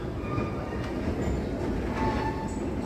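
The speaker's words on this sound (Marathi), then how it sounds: "ही माझी हॉवर्ड ट्रेन गेली" A Chicago elevated Howard line train pulls out of the station with a loud, steady rumble of wheels and cars that runs unbroken throughout, with no voices over it.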